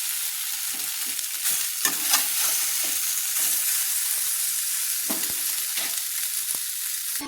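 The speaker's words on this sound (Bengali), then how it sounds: "সেমভাবে কিন্তু অপর চিকেনগুলো ভেজে নিচ্ছি।" Chicken pieces fry in hot oil in a pan with a continuous close sizzle, broken by repeated scraping and stirring strokes and no speech.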